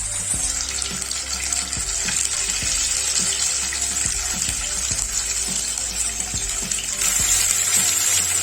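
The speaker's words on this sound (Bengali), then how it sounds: "পনিরটা ভেজে নেব।" Paneer frying in a pan, a constant dense sizzle heard up close, broken by a regular series of soft knocks and scrapes from a utensil working the pieces.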